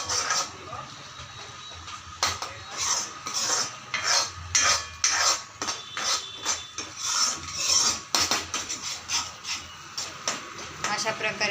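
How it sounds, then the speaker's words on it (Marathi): A spoon scrapes and stirs masala being sautéed for misal in a pan, giving repeated close, irregular clinks and rasping strokes. "मसाला चांगला परतून द्यायचा आहे।"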